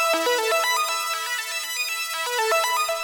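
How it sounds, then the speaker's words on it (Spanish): A TAL NoiseMaker synthesizer patch fires rapid arpeggiated notes in fast 32nd-note runs, a bright, loud, steady cascade of stepping pitches with no talking. "podemos ver cómo hace todas esas notas que son que se disparan tan rápidamente cuando estamos eh, en 32"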